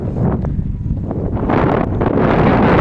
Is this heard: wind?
yes